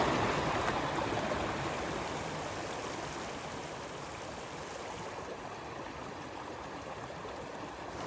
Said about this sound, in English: There's a little river here.